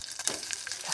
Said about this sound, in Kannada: ಅದಕ್ಕೆ ಸ್ವಲ್ಪ ಎಣ್ಣೆ ಹಾಕ್ಕೊಂಡು ಅದಕ್ಕೆ ಸಾಸಿವೆ ಮತ್ತು ಜೀರಿಗೆ ಹಾಕ್ಕೊಳ್ತಾ ಇದ್ದೇನೆ